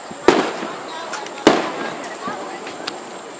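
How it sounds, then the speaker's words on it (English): Fourth of July fireworks burst at Venetian Gardens by a medical center: two sharp, loud bangs about a second apart, each with a crackling tail and echo, followed by a fainter pop, with people talking around them. "we're waiting for the fireworks"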